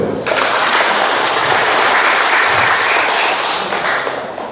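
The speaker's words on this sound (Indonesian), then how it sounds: "Mau kasih tepuk tangan boleh." Audience applause at a community recess meeting held by a Central Lampung regional legislator in Terbanggi Besar district: a steady, dense burst of clapping that starts abruptly and fills the room for about four seconds before easing off.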